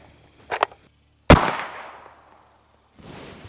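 A single sharp gunshot from a firearm fired during ammunition testing, preceded by a couple of quieter clicks and followed by a long ringing decay, loud and close.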